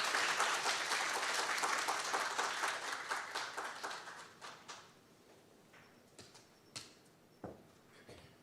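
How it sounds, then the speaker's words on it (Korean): An audience at a financial crime prevention seminar applauds to welcome a speaker: dense, steady clapping fills the room for several seconds, then thins out to a few scattered final claps. "please join me in giving him a warm round of applause"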